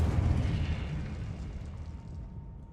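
A Confringo spell blast from the Hogwarts Legacy video game erupts in a loud, deep explosive rumble that slowly fades over a few seconds, with no talk over it.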